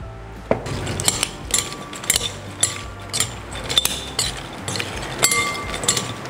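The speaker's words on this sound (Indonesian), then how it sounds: "sekarang kita tinggal campur sama mayonya dan beres" A spoon clinks and scrapes against a bowl as fried shrimp is mixed with mayonnaise, giving irregular, close metallic taps and knocks with no talking.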